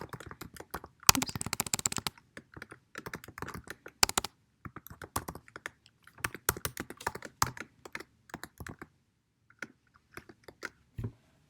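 Login details are tapped out on a school MacBook keyboard in quick bursts of crisp, close key clicks. Short pauses fall between flurries, and there is no talk.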